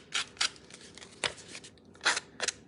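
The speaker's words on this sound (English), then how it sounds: "So just run your scissors up the side." Ribbon scissors scrape up the edge of a sheet of paper to rough and distress it, giving several short, dry, raspy strokes with small gaps between them at close range.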